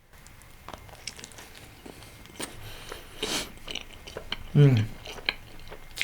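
Chicken cheese pizza being bitten and chewed up close, with soft crunchy bites and chewing scattered through the clip, a louder bite near the end, and a brief murmured voice.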